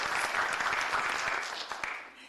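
Steady crowd applause at a business development year-end forum, dense clapping that thins and tapers off over a couple of seconds, with no voices heard.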